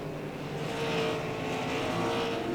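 Late model race cars at Langley Speedway, a steady engine roar swelling slightly as the pack runs through a turn, heard from a distance without talk.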